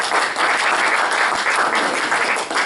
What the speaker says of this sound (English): give Paul Smallwood a big round of applause